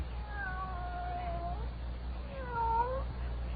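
A cat meows twice, a longer drawn-out call followed by a shorter rising one, close by over a steady low hum.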